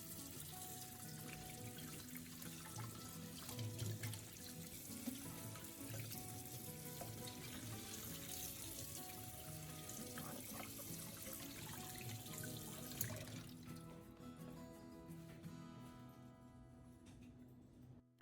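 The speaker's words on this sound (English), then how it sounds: "give them a very good rinse under running water" Peppers rinsed under a running kitchen tap, a steady close hiss of flowing water splashing in a sink for most of the stretch, then thinning toward the end.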